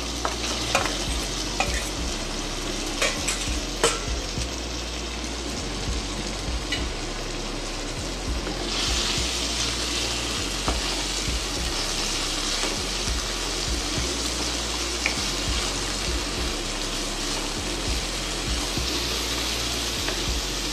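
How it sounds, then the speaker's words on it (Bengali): Prawns drop into hot oil with garlic and sizzle continuously up close, the frying growing louder and hissier partway through, with scattered clicks of a utensil and no talking. "এই প্রনগুলোকে ওই তেলেই ছেড়ে দিচ্ছি।"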